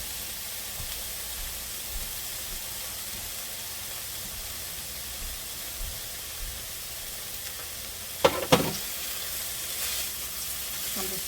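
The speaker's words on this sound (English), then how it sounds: "So let's just stir this around a little bit." Seafood Alfredo sizzles steadily in a single pot on the stove, a constant frying hiss throughout, with a couple of sharp scrape-like clatters of stirring near the end.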